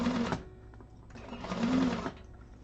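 A sewing machine top stitching a tote bag, running in two short bursts of rapid, even needle chatter separated by a brief pause, close and fairly quiet.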